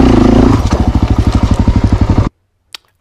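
Honda CRF450RL dirt bike climbing a steep rocky hill, its engine thumping loud and close in a rapid, even chug before cutting off abruptly, leaving near silence and a faint clack.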